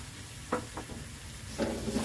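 Cleaned shrimp going into a pan with dried chili, soft sizzling under a few brief stirring scrapes and clinks, close but fairly quiet.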